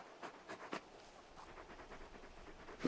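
Torgal, the large dog in Final Fantasy XVI, pants softly in quick uneven breaths at close range, with a few sharper huffs and a louder burst at the very end, no speech over it.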